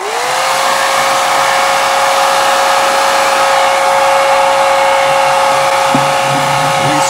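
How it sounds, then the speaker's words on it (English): A hair dryer whirs steadily at close range, a loud constant blowing hum with a high whine, no voices over it. "So here we go with the hairdryer."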